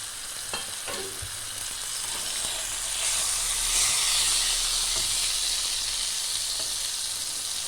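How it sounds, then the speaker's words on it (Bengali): Pointed gourd (potol) frying in oil, a close, continuous hiss and sizzle that swells midway, with a few light knocks of stirring near the start. "একটু ভালো করেই ভাজতে হবে।"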